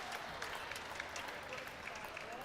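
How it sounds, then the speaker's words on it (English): Crowd at a college basketball home opener gives an ovation, faint steady clapping heard from a distance. "A well-deserved ovation from the crowd."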